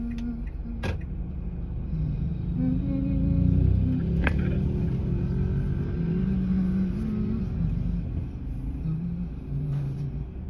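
A car engine idling and creeping while being parked, a low steady rumble close by with a brief creak and a soft click partway through, no talk.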